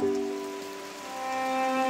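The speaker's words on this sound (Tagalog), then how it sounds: "umulan naman guys" Steady rain patters on a surface outdoors at an Aeta settlement, a continuous hiss with a few faint tonal hums running through it, no voices.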